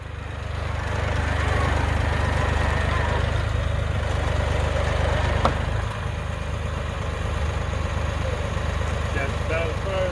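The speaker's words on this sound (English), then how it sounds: "go ahead with the skidding tongs to a front mounting point on the tractor and get this log dragged out of here" A tractor engine runs steadily at a low, even rumble, close by and loud, while it drags a white pine log out on a chain with skidding tongs.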